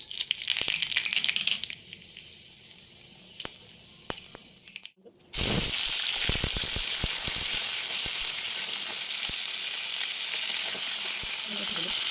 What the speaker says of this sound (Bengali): এরপর আমি ডালটাকে ফোড়ন দিয়ে দেবো। মধ্যে দিয়ে দেবো একটু শুকনো লঙ্কার সর্ষে